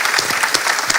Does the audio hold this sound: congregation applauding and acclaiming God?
yes